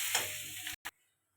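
Vegetables (potato, cauliflower, carrot, peas) frying with turmeric in a pan give a brief close sizzle with stirring, then it abruptly cuts to silence.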